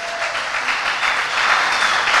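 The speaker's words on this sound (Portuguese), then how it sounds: "Vamos aplaudir Jesus na vida delas" Church congregation applauding together in steady, dense clapping that holds at an even level and swells slightly toward the end, with no voices on top.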